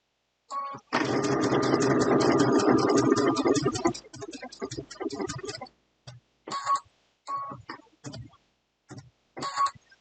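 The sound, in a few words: sewing machine stitching machine applique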